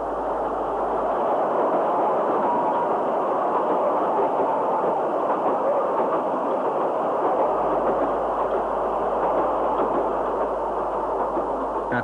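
Miniature 15-inch-gauge steam locomotive 462 Ernest W. Twining, built in 1949, arrives at Penrhyn Point on the Fairbourne Railway with a steady, continuous rumbling clatter of moderate loudness throughout, no voices heard.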